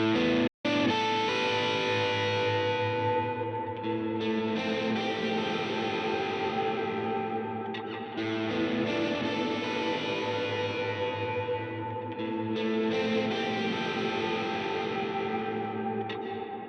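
A guitar signal from a Line 6 Helix Stadium processor, with a reverb on one parallel path, rings out as sustained, distorted chords. The chords carry a washy echo tail and stay loud after a sharp cut near the start.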